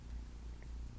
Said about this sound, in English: a happy cat who is quiet and behaving